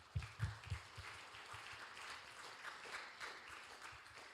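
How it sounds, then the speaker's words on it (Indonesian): Audience applause for students at a school Christmas celebration in Samarinda, soft and fairly distant, a steady wash of many hands clapping with a few louder claps at the start. "Dan kasih aplaus lah untuk mereka."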